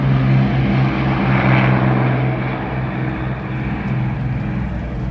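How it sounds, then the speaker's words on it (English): Deep, sustained roar of a Lancaster bomber's Merlin piston engines at an air show, loud and close, with a steady droning hum that eases slightly as the plane moves away. "You can hear the roar of those Merlins there as Matt Moore gets the power on"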